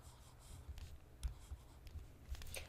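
A pen or pencil writes a logarithm equation by hand, faint close scratching strokes and taps in short irregular bursts.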